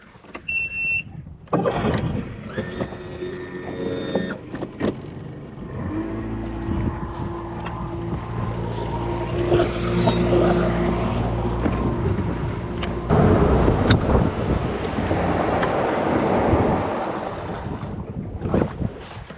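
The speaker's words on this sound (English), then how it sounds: "we're gonna get on the outboard real quick and hurry up and get over there" Fishing boat running on an outboard motor, a loud steady engine drone with wind buffeting the microphone, getting rougher and louder as the boat speeds up.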